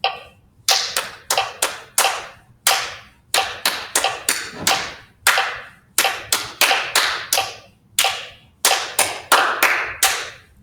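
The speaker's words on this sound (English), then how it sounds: "So I'm going to put my metronome on. Hopefully you can hear the click go." Sharp hand claps in a steady rhythm over a metronome's click at around 66 beats per minute, played as an eighth-note exercise in a music lesson, with short even gaps for rests and no talking.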